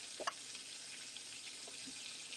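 Whiting fish and shrimp frying in oil, a dense continuous hiss of sizzling held at an even level from start to finish, with a brief faint clink near the beginning.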